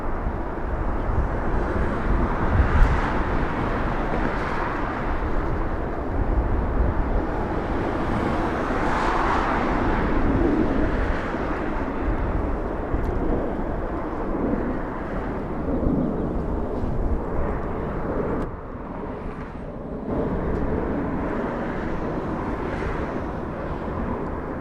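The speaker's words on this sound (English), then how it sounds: "already taxiing for departure. An A321 heading to Salt Lake City" A Delta Airlines Airbus A321 taxiing for departure at Los Angeles International Airport gives off a deep, steady jet rumble that swells and fades slightly, with low wind noise and no talk.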